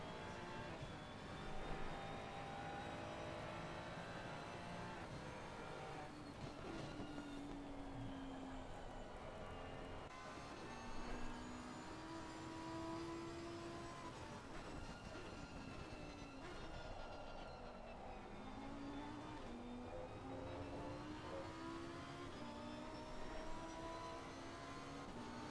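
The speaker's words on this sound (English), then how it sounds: "The whine is just the gearbox." Onboard a race car lapping Oulton Park, a loud, sustained gearbox whine that rises and falls in pitch with each gear change over a constant engine and road roar.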